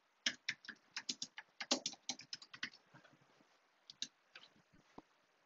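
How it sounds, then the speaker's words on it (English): Quick bursts of typing on a computer keyboard into a Google search bar: crisp, close key clicks in rapid runs that thin out into a few scattered taps, with no voice. "In the Google search bar, type in Raspberry Pi Imager."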